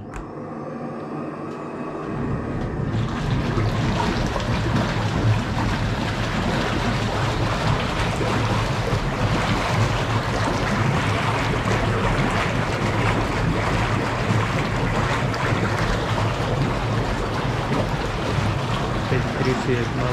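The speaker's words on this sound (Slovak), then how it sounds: "Tak si zapneme aj bublinky." A small air blower bubbles water in a tub under a roof. After a short quiet start, a loud, steady rushing and bubbling begins and continues without a break.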